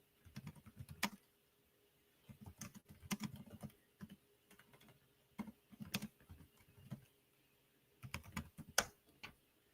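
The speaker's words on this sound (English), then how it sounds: "Let me type this in." Typing on a computer keyboard in a quiet room, with bursts of soft, rapid keystrokes separated by short pauses and a few sharper taps.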